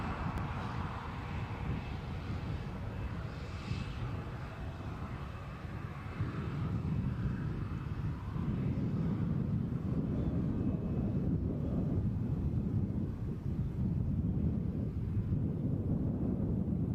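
An airliner taking off from Edinburgh Airport makes a distant, broad engine roar that swells and grows heavier partway through, with faint wind noise on the microphone.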